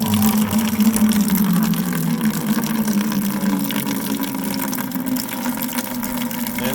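An emergency well pump with a filter in bypass mode runs steadily, pushing rusty rinse water through, making a continuous low hum with a rushing, gurgling flow and no talking.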